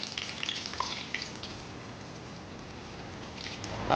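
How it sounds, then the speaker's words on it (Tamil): Patties frying in hot oil for an egg peanut masala, giving a steady soft sizzle and crackle throughout with no voice over it. "நல்லா ஃப்ரை ஆகிற வரைக்கும் ஃப்ரை பண்ணி எடுத்து வச்சுக்கோ"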